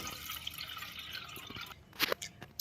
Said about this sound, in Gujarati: આપણે પાણી કાઢી નાખીએ છીએ, પલાળેલું પાણી.